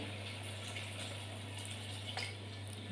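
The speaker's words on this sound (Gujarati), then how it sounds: "જેટલો રસો કરવો હોય એટલું પાણી નાખી" Water pours into a pan of cluster bean and potato curry, a steady close gush over a low hum.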